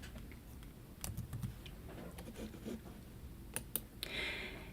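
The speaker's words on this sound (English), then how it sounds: "Today we'll type in psychology." A word being typed on a computer keyboard into a library database search box: a few quiet, scattered key clicks in short bursts, close and soft, with no talking.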